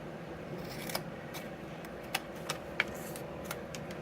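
Scissors snipping small paper pieces off the front flap of a handmade cardstock box, a few quiet, separate cuts over soft room hiss.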